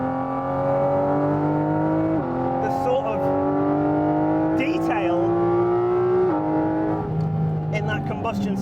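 A Porsche 718 Cayman GT4 RS, with its mid-mounted flat-six, revs hard on a road and climbs through several gears with rising, howling pulls and sharp shift breaks. It sounds close and loud from inside the car, and someone talks briefly over it.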